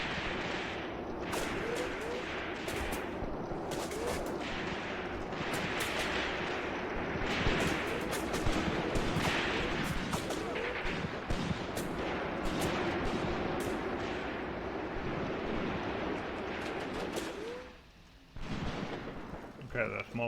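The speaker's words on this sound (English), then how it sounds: "There's some machine gun here." Machine gun bursts and heavy artillery fire from the Graviteam Tactics war game crackle and thump continuously at mid distance, with brief rapid volleys over a dense rumbling battle bed.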